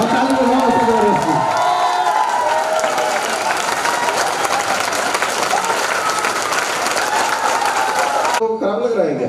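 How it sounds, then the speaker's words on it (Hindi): A large crowd at a mega show in Mirzapur, Panchtala claps and cheers loudly and steadily for about eight seconds, with shouts and voices mixed in, before the applause cuts off abruptly near the end. "जिसका पड़ोसी ताली नहीं बजा रहा उसको खींच के उठाओ और ताली बजाओ उसको जबरदस्ती।"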